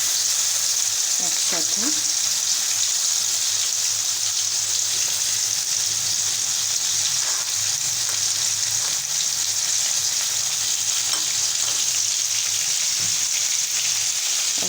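Onion and garlic paste sizzles steadily in a hot pan of oil, a constant frying hiss with a few stirring scrapes, while a voice speaks briefly in Bengali.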